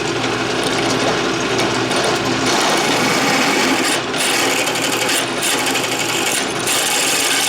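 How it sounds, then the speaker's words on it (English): A drill press bores steadily at moderately slow speed, giving a continuous grinding, rasping drone close by with a few brief dips in the cutting noise. "The drill's running moderately slow."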